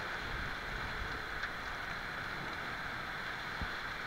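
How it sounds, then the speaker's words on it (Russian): Strong, gusty hurricane-force wind during a hailstorm in warm wet weather, a steady broad roar that fills the whole clip, loud and close with no pauses or talk. "Вот видим, какой ураганный ветер."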